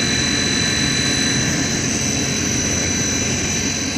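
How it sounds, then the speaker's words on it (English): An old pump driven by a variable frequency drive runs at a steady loud whine and hum, continuous and even with a high electrical tone over a broad motor drone. "We haven't ran that pump in years."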